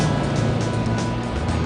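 A BMW 6 Series drives laps on a frozen lake, its engine a steady, loud low rumble with broadband road and wind noise, unchanging throughout.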